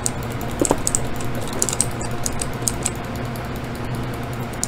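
Rapid clicking of a computer keyboard and mouse during Minecraft PvP on a server: a close, busy patter of sharp key and button taps with a few louder clacks, steady and alone.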